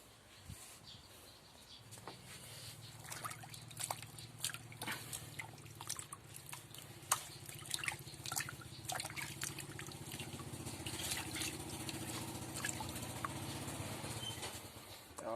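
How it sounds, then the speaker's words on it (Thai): Water drips and patters as cloths are soaked, with scattered small splashes and trickles close by over a low, steady background rumble. "เดี๋ยวเอามาแช่หมดครับ ที่เหลืออีกสองผืนครับ"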